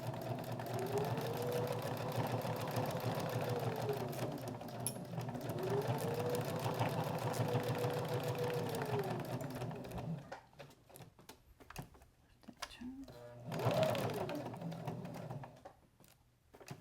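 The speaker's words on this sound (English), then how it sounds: "I'm going to come back and I'm going to cross that stitching line and back stitch." A sewing machine stitches a seat belt cover in long steady whirring runs, then stops and starts in short bursts for backstitching, close and clear, with faint handling noise between.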